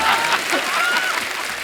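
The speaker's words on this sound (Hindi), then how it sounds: "जोरदार तालियां हमारे गेस्ट के लिए" A studio audience on The Kapil Sharma Show gives a guest loud, sustained applause, with many hands clapping in a dense roar and faint voices underneath.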